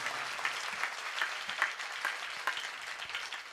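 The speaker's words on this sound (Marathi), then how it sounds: "एकच काम करा, मृदंगाचार्यासाठी एकदा जोरदार टाळ्या वाजवा." An audience claps loudly and steadily for a mridang player at a devotional kirtan performance, a dense sustained applause that fills the whole stretch without speech.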